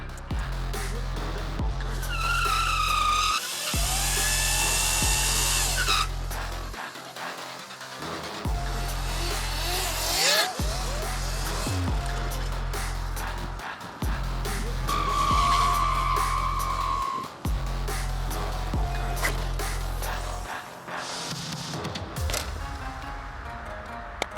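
DWX 250 electric enduro bike stunt riding on asphalt, with repeated sharp tire squeals and skids in bursts over a steady electric whine and low throbbing music, the bike passing near and away.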